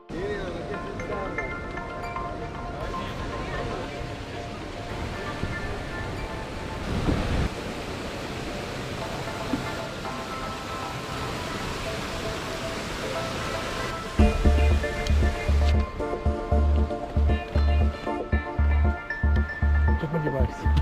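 The Hermon stream and its small waterfalls rush in a continuous broadband wash of cold flowing water, heard steadily throughout as people talk over it and a rhythmic thumping joins near the end.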